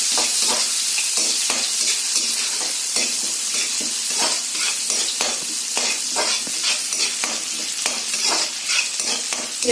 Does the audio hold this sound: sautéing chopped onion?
yes